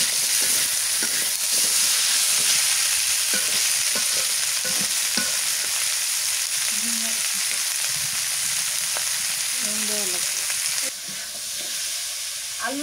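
Potatoes sautéing in oil with onion, garlic and cumin paste and a little turmeric, a steady close sizzle with intermittent stirring scrapes throughout, easing slightly near the end.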